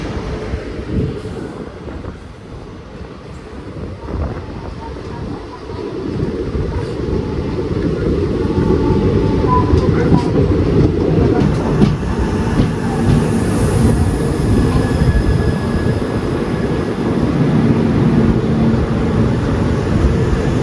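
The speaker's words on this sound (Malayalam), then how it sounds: "എറണാകുളത്ത് നിന്ന് ബിലാസ്പൂർ പോകുന്ന സൂപ്പർ ഫാസ്റ്റ് ആണ്." An Ernakulam–Bilaspur superfast express hauled by an electric locomotive rumbles past close by, a rising heavy roll of wagons and wheels on track that builds and holds, with faint squeals.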